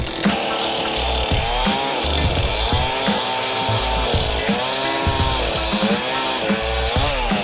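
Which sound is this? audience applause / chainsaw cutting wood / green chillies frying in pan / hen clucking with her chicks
chainsaw cutting wood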